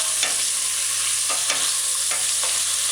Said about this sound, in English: just add the diced onions, the diced scallion, which is optional, the mashed garlic, and just stir it in, allowing to saute.